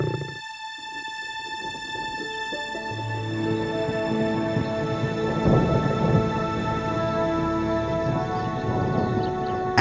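Rain falls steadily while low thunder rumbles, swelling midway, with a sustained musical tone running underneath.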